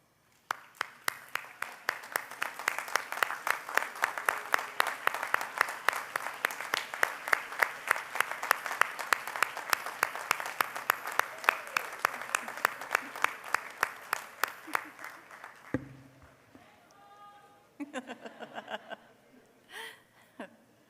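A university commencement audience applauds in distinct, rhythmic claps for about fifteen seconds, then the claps stop and light laughter and a few voices follow.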